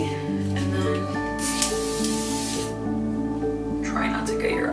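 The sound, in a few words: finishing hairspray being sprayed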